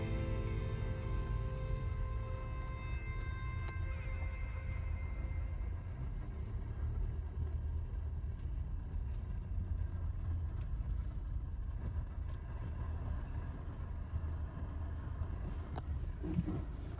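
A car climbs slowly up a narrow unsealed bush road toward an old hand-cut tunnel by the Boyd River, its steady low engine rumble continuous and close throughout with no talking.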